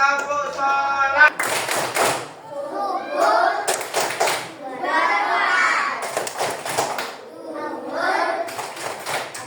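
Schoolchildren in a classroom clap along to a rhythmic Islamic prayer chant, with bursts of hand claps alternating with sung and spoken voices led by a teacher.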